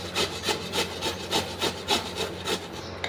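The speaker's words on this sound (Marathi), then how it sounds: "आपण त्याला असं किसून घेणार आहोत." A bottle gourd is grated by hand in a kitchen, giving about ten evenly spaced rasping strokes at a quick, regular rhythm, close and moderately loud with no talking.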